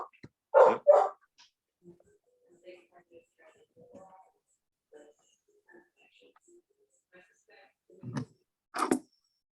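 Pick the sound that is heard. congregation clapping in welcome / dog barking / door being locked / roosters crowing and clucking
dog barking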